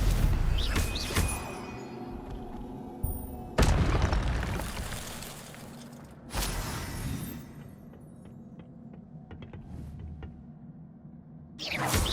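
Hogwarts Legacy fire spell being cast in the video game, with three loud whooshing bursts of flame spaced across the clip over a low rumbling game ambience, no talk.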